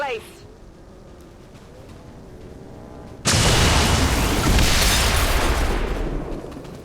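A rapid burst of gunfire from the Banish ability in XCOM 2, six shots fired back to back, bursts in loudly and keeps going, with quieter game ambience before it.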